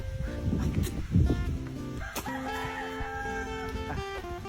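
A rooster crows at a chicken farm, a clear harmonic call rising and holding across the middle of the clip, with clucking fowl and general barnyard noise underneath.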